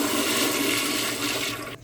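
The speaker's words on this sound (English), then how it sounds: "So I'm just gonna flush it." A toilet flushes in a hotel room bathroom, a loud continuous rushing swirl of water that holds steady for nearly two seconds, then drains off abruptly at the end, with no talking.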